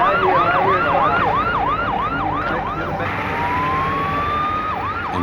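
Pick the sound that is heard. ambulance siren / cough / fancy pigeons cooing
ambulance siren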